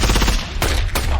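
Gunfire from a firefight: loud, dense rapid shots roll together over a short burst, with two sharper cracks standing out near the end.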